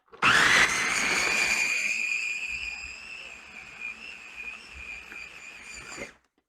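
A blender whirs up to speed, pureeing food in a loud, steady, high-pitched whine that holds for about six seconds, then cuts off abruptly.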